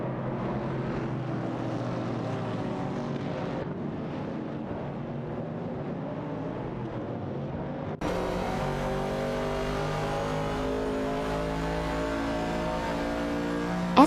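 Ford Falcon and Ford Mustang Boss engines roar in a video game race, a steady loud revving drone that shifts to a higher, brighter engine tone partway through, with no voices.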